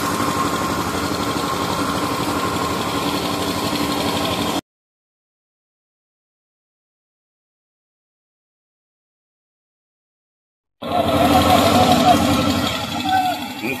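A finger millet threshing machine's engine runs steadily at a moderate distance, a constant mechanical drone that cuts out to silence partway through and resumes louder.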